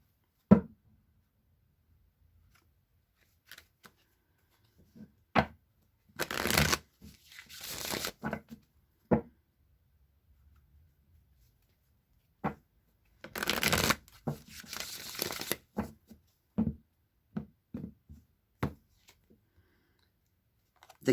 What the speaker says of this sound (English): Summer, I'm going to shuffle again and draw another.